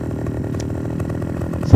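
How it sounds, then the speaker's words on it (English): A chainsaw in the game Farming Simulator 2015 idles with a steady buzzing engine drone, fairly loud and unbroken, ending in a brief sharp thump. "select the chainsaw."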